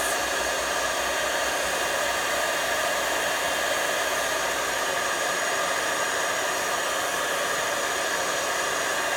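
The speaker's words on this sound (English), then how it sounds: "now I'm going to preheat my heating tool over here on the side and heat it up so that the embossing powder melts" A heat tool for embossing powder blows hot air in a steady, unbroken whooshing roar, close and fairly loud for the whole stretch, with no talking.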